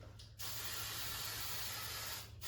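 A long, steady hiss of hairspray from an aerosol can lasting about two seconds, close and loud, with brief quiet moments before and after.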